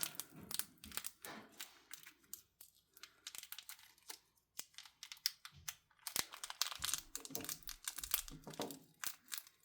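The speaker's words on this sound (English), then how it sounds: "I really hate cutting these bags open because these are so cute." A plastic bag is cut open with crisp crinkling and snipping, close and quiet, in irregular bursts of rustling with short pauses.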